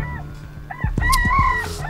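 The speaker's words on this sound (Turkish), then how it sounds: "Ah Nazlıcık, yükledim bu horoz mevzusunu. Her seferinde irkiliyorum" A rooster crow plays as a phone ringtone, a loud electronic cock-a-doodle-doo with a steady hum underneath.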